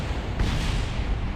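Rocket engines fire in the Kerbal Space Program game, a dense, steady low roar that fills the short stretch with loud rumbling, alone and without voices.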